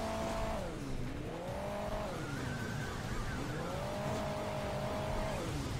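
A diesel vehicle drives in Hill Climb Racing 2, its engine note rising and falling in long revving sweeps as it accelerates and eases off, loud and continuous over a gritty rolling background.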